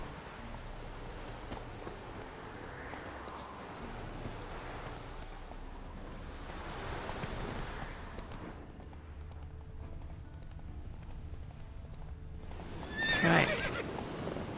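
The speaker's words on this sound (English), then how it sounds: "let's get on the horse" Horse in The Witcher 3 game: steady clip-clop of hooves through the clip, with a loud whinny near the end. No one speaks.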